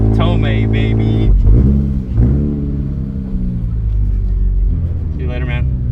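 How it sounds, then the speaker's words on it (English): A 2022 sports car, Toyota GR86 or Subaru BRZ, revs up sharply, its engine tone climbing and dropping in quick loud sweeps over a steady low rumble while people talk nearby. "You gotta rev it more"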